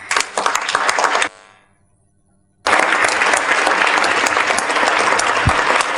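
Audience applause after a speech at a Rotary UN peace event, dense steady clapping from a large crowd, cutting out briefly in near silence before loud applause resumes and carries to the end.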